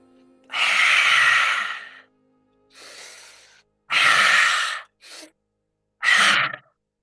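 Intense breathwork with forceful inhales through the nose and exhales through the mouth, loud close rushing breaths in long surges separated by brief silences.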